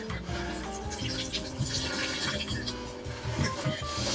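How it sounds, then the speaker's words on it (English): A steady rush of liquid from canned green beans pours and drains through a strainer for several seconds, close and continuous, without pauses. "I drain the green beans."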